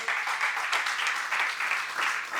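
A church congregation claps together during a Sunday morning service, a steady, dense wash of hands filling the room without pause and with no voices over it.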